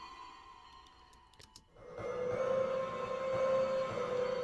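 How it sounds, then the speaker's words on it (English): Pitched wind chimes from a percussion sample library, swelling in after a few sparse metallic tinkles into a sustained, shimmering tonal drone washed in delay and reverb, holding steady and fairly loud to the end. "so we took the wind chimes and pitched them."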